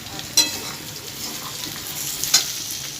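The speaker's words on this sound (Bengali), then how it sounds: "এখানে আমার পটল আলু ভাজা হয়ে যাচ্ছে।" Pointed gourd and potatoes fry in a pan with tomatoes going in, giving a steady close sizzle with two short scraping clatters of stirring.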